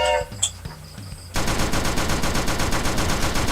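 Rapid automatic gunfire in a monster shooting video game, a dense continuous burst of shots that starts abruptly after a brief quieter stretch and stays loud to the end.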